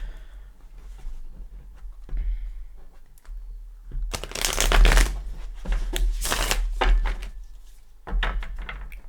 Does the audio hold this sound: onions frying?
no